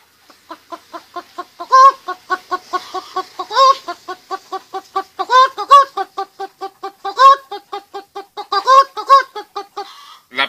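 A voice imitates a hen clucking: a long run of rapid, rhythmic clucks with occasional louder squawks, close and steady throughout.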